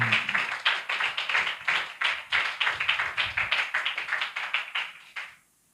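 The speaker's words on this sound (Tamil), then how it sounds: "நல்ல கைத்தட்டி ஆண்டவருக்கு நன்றி சொல்லுங்க." Church congregation clapping hands in unison, a steady rhythmic series of sharp claps at roughly four per second, fairly close, ending abruptly into silence.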